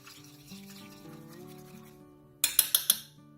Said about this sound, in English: Just gonna scrape the bottom and the edges first.